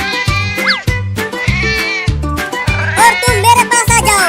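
Kittens meow repeatedly and loudly at close range, a rapid run of high, bleating calls following one another with barely a pause.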